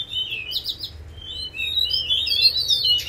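A Seychelles magpie-robin, Copsychus sechellarum, sings close and clear: bright, high whistled phrases and quick chirps in short runs, with little else behind them.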